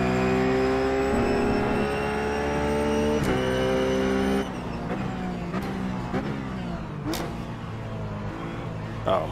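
A Ruf GT3 race car engine at Sonoma in the iRacing video game drones loud and steady, holding a high pitch, then drops through downshifts with several sharp gear-change blips as it slows for a corner.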